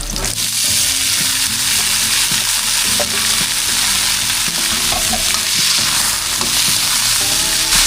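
Papaya sautéing in a pan with garlic and onion, giving a loud, steady sizzle and fry with ongoing stirring clatter, close up and without talk.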